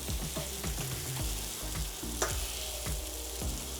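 Chicken burger patties fry in a pan, a loud, steady close-up sizzle running throughout with scattered sharp pops and spits and no voices.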